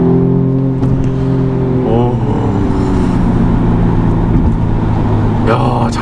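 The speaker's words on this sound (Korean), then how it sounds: "운전의 재미, 배기 소리 이런 것들 한번 체험해 보도록 하겠습니다" A BMW M235i Gran Coupe accelerating at full throttle, its engine and exhaust droning loudly and steadily from inside the cabin with a rising pitch, sustained for the whole stretch with no talk.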